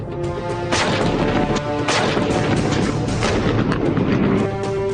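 Artillery cannons fire during a Chinese People's Liberation Army drill on the East China Sea coast, a rapid series of loud, sharp booms and blasts that pile up into a continuous roar with no talking.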